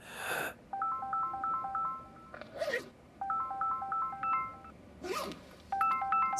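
A telephone rings with an incoming call from a school, playing a bright electronic melody in three repeated bursts separated by short pauses, fairly close and clear with no talking.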